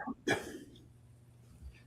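A single short, sharp sneeze-like burst near the mic, followed by quiet room tone.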